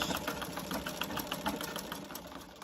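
An older sewing machine stitches quilt strips in a steady, close mechanical whir with a fast rhythmic knock, running alone without talk.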